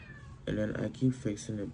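A cat meows in short, plaintive cries after being put outside, a few wavering calls mixed in with a person talking.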